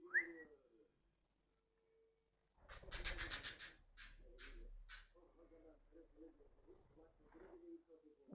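Pet bird chirping indoors in short bright bursts, some close and loud, with a person nearby talking to it and a low hum in the background.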